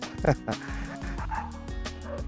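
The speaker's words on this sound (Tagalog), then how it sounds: "Ito mga aso." Several dogs bark in quick, overlapping yips and woofs at moderate distance, with a whimper mixed in.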